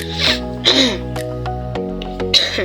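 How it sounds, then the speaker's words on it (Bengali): Several short, rough coughs from someone who is ill, like throat clearing, burst out one after another close by, separated by brief pauses. "তাই কারণে একটু কাশি আসতেছে"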